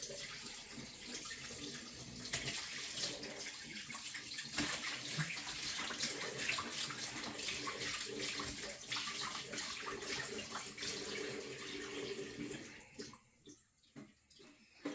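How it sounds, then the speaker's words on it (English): Hands washed under a running kitchen tap while cooking: a steady splash of water for about twelve seconds, fairly quiet, then the flow stops and only a few faint drips and handling sounds remain. "then I'm gonna wash my hands"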